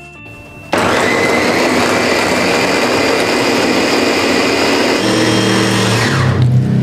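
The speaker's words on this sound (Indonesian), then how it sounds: "Ini aku menggunakan chopper dari Adia Life" An Adia Life 216 electric chopper grinds curly chillies into spice paste, a loud, steady high-pitched motor whir that starts abruptly after a moment of quiet and runs continuously, its tone shifting slightly near the end.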